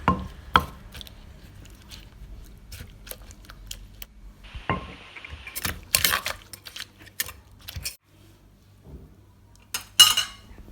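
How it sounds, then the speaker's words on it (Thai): Lime and salad ingredients pounded together in a mortar for a Thai lotus-stem and fresh prawn som tam, with irregular sharp knocks and clatters of the pestle, some close and loud, separated by quiet gaps. "ต่อด้วยมะนาวค่ะ แล้วตำทุกอย่างให้เข้ากันค่ะ"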